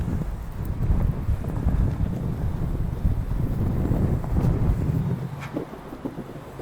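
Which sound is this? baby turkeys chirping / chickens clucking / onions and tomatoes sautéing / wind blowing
wind blowing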